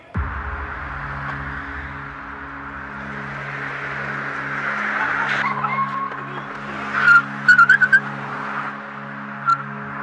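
A car skids with a steady engine hum and sharp tire squeals near the end, fairly faint, as if coming from a played video.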